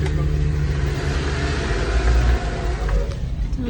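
An off-road car pulling away at an off-road championship, its mid-range engine rumbling and revving close by, with a surge in power partway through.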